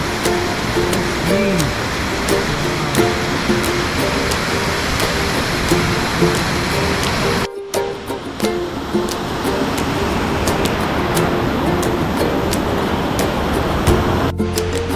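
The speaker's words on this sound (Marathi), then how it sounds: "तर मित्रांनो हा आहे तिसरा धबधबा." A waterfall at Siddhagad fort in the Konkan roars as a steady, broad rush of falling water close by, continuous and loud, with a short dip in the middle of the clip.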